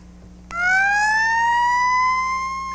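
A fire engine or ambulance siren at a staged emergency drill in Horsham, Pennsylvania, in 1993 starts suddenly with a loud, rising wail. It holds a high sustained tone over a low engine hum.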